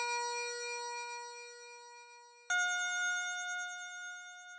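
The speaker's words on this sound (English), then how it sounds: "All right, onto the bells." Two synthesized bell tones from a PluggnB music production preset ring out one after the other. Each strikes cleanly, then sustains with bright, shimmering overtones and decays slowly.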